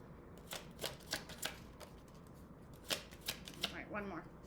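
Tarot cards being shuffled and riffled in a fast run of crisp, papery flicks and slaps, several bursts close to the mic, with faint talk underneath.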